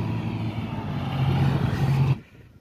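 A John Deere tractor engine running in a farm field, a steady close diesel drone that grows slightly louder before cutting off abruptly near the end, with no talk.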